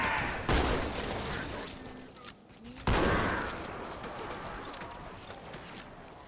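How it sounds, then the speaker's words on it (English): Two shotgun blasts in Halo 2 fired at Flood enemies, each a sharp loud crack with a decaying roar about two seconds apart, over a busy game backdrop with faint bird-like calls. "All right, shotgun does work wonders against the flood."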